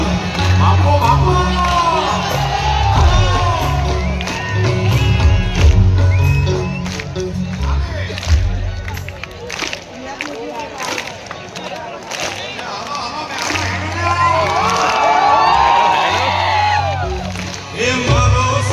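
A concert crowd at the Mehsana Winter Fest 2026 during a live show claps, whoops and cheers, rising and falling in loud swells mixed with a singing voice and music.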